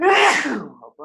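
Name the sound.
sneeze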